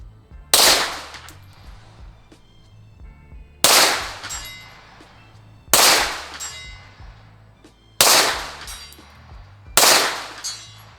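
Five loud, sharp shots ring out from a Laugo Alien pistol fired at long-range targets. They come at an even pace about two seconds apart, and each crack decays with a ringing tail.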